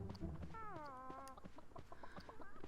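A chicken in the Grabbed by the Ghoulies video game clucks in a rising, squawking burst as it is knocked flying, the calls stacked over a busy game soundscape with steady background music and effects, no talking.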